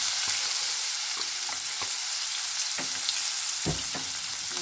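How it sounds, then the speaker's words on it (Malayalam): Chopped brinjal fries in hot oil in a pan for kathirikka podi, a steady sizzle running throughout with scattered scraping stirs and a louder scrape near the end; no talking. "അതിലേക്ക് നമുക്ക് ഇതിൻ്റെ അകത്തേക്ക് അരിഞ്ഞു വെച്ചിരിക്കുന്ന വഴുതനങ്ങ ചേർത്ത് കൊടുക്കുക"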